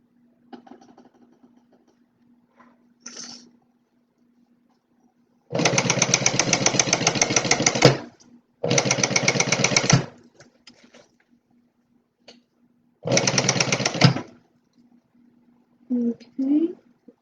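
A fast-running sewing machine stitches a tote bag in three separate motor bursts, the middle one shortest, with quiet gaps and faint handling noises between them.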